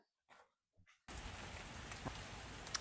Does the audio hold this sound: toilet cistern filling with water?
no